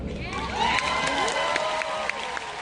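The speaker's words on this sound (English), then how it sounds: "And they applaud." A political event crowd applauds and cheers continuously, a dense wash of clapping and shouting voices with no single voice standing out.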